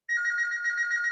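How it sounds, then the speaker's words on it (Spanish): A landline telephone rings with a steady electronic tone, held continuously at moderate loudness through the whole moment with no voices. "Está sonando un teléfono por acá."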